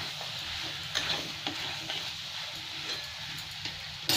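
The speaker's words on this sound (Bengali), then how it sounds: "আলুতে আর এই পোস্ত দিয়ে ভাজতে ভাজতে পোস্তটাও খুব সুন্দর ভাজা হয়ে যাবে" Potatoes and poppy seeds frying in a pan, a soft continuous hiss of oil with faint occasional spoon scrapes, quiet and steady throughout.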